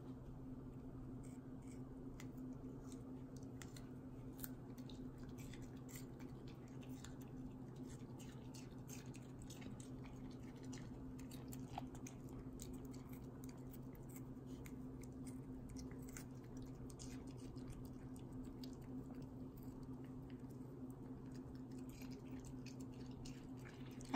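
Small dog crunching and chewing red paprika close up, soft wet bites and squishy munching over a steady low hum, faint and continuous throughout.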